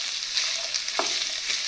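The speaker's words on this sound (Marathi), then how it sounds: "सो सगळी मिळून स्टर फ्राय करून घेऊया." Vegetables and boiled green peas stir-frying for a vegetable pulao give a steady close sizzle, with one brief scrape of a stirring utensil partway through.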